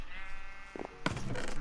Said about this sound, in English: Why is there still white sheep?